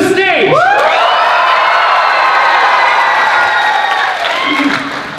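A showcase audience at a youth improv event erupts in loud, sustained cheering and screaming with whoops and clapping, filling the room from start to finish before easing slightly near the end.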